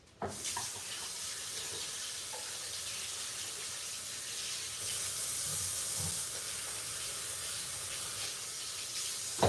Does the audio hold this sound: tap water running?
yes